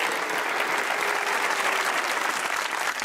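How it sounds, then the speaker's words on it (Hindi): A studio audience at a comedy talk show applauds a volunteer coming up, steady dense clapping that holds at an even, fairly loud level for the whole few seconds with no speech. "तालियां होनी चाहिए जनाबे।"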